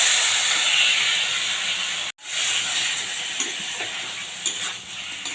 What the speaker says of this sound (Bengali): দিচ্ছি মশলা মাখানো চিকেনটা দিয়ে দিচ্ছি